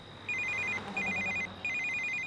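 A telephone rings in three bursts of rapid trilling bell tones with short gaps between, steady and fairly close against a quiet room hum.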